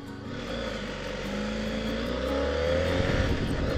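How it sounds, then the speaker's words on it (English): A car drives close alongside on the road. A steady engine drone swells gradually louder over a few seconds, with no talking. "There's a car here right next to me."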